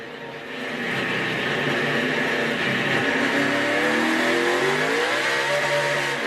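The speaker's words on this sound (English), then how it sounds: "Just spun it up. That tells you how much power these pickup trucks have" A NASCAR Camping World Truck Series pickup roars during a race start at the WinStar World Casino 400k in 2013, its engine revving loud and steady from inside the truck while the tires spin.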